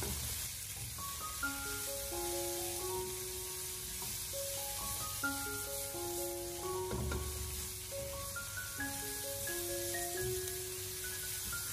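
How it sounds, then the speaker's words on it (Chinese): Blanched green beans stir-fried in a wok over high heat give a continuous hiss and sizzle with occasional tossing scrapes, heard close beneath a steady melody of background music. "将焯过水的豆角给它重新的放回锅中，然后开大火给它快速的翻炒一下"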